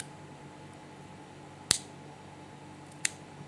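Two sharp snips of multitool scissors cut through paracord, a second apart over a quiet room hiss, with no voices.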